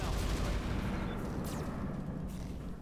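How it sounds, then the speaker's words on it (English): Mech weapons fire together in the BattleTech RogueTech mod as a dense, rumbling volley of cannon and missile blasts that fades slowly, with a few brief streaking whooshes above it. "let's just fire everything on him"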